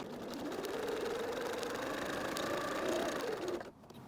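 A sewing machine runs a long straight basting stitch, a steady mid-pitched motor whir with rapid needle chatter held for several seconds before stopping abruptly, close and alone.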